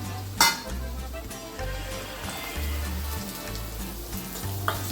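Chopped vegetables and onion fry in a spiced oil tempering over low gas while sambar is cooked, giving a steady close sizzle with a sharp clink near the start, over quiet background music.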